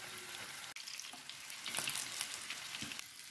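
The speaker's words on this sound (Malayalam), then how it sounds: "ഒന്നും കൂടെ ചെറുതായിട്ട് മൂപ്പിച്ചെടുക്കാം" Chicken ada sizzles and fries steadily in a pan, a continuous close crackle with small stirring touches and no talking.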